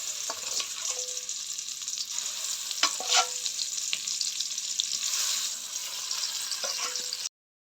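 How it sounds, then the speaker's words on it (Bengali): Prawns coated in salt and turmeric fry lightly in oil left from frying peanuts, making a continuous sizzle broken by a few brief clinks and scrapes of stirring, with no talk. "এবার চিংড়ি মাছগুলো হালকা করে একটু ভেজে নিব"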